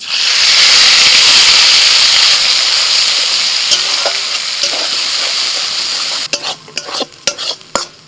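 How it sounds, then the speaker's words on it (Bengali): Coarsely ground green peas hit hot mustard oil with nigella seeds and asafoetida, setting off a loud, close hiss that gradually fades. Sharp clinks of a spatula stirring in the pan follow near the end. "যে কড়াইশুঁটিটা একটু শক্ত করে বেটে নিয়েছিলাম সেটা দিয়ে দিচ্ছি"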